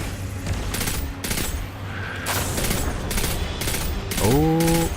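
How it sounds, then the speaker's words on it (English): Pulse rifle fire in Destiny 2, repeated bursts of loud close shots in regular rhythm, with a brief rising tonal whine near the end. "Oh, this pulse rifle is okay at long range, actually, not bad."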